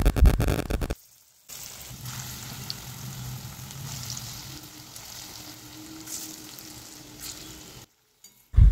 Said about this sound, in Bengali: তারপর এইভাবে বড়ার আকারে তেলের মধ্যে ভেজে নেওয়া হচ্ছে।